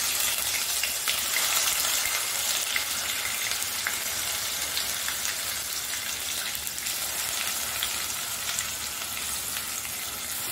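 Ground spice paste with whole garam masala, bay leaf, cinnamon, black pepper and cloves fries in hot oil for egg curry, a dense continuous sizzle that stays loud and even throughout, with no talk.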